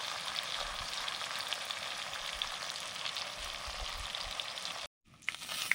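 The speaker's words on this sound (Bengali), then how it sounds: "কাতলা মাছের মুড়ো ভালো করে ভেজে নিয়ে তুলে নিচ্ছি" A katla fish head fries in oil with a steady, fairly soft sizzle and crackle close by, cutting out briefly near the end before a few clinks and rustles.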